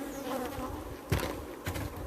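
Honeybees swarm around a brood frame hive in a close, continuous buzz, with a few louder passes as individual bees fly near.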